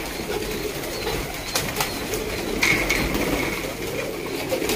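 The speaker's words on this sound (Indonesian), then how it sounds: "Burung bagus-bagus loh kawan" Domestic pigeons coo softly and steadily in a noisy outdoor setting, with a brief rustle of wings partway through and no talking.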